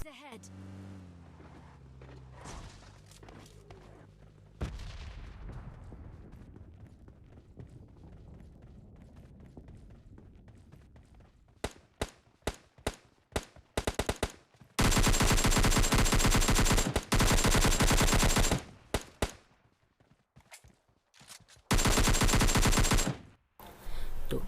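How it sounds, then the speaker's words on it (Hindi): Gunfire in the PUBG Lite battle royale game, starting with a few scattered shots and building into long, loud sustained bursts of automatic fire with brief pauses between. "हमें आती है जंग हट से फायरिंग शॉट्स।"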